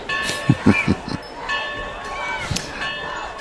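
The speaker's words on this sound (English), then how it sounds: "Now somebody's ringing the bell again." A bell rings out at a high school football game around kickoff, its sustained ringing tones hanging over muffled crowd noise and scattered voices and thuds nearby.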